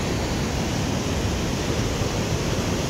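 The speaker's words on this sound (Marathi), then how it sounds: "कसं रौद्ररूप दाखवतोय बघा धबधबा" A hidden waterfall at Parola in Hingoli roars in a steady, dense broadband rush of heavy falling water, loud and continuous with no breaks.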